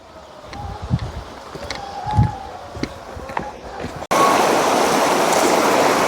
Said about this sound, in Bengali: পাহাড় থেকে নেমে জলের যে ধারা সেটা কিন্তু বয়ে চলেছে